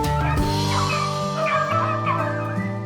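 Rabbit hunting dogs bay and howl close by in long, drawn-out, overlapping cries that rise and fall, with little pause between them.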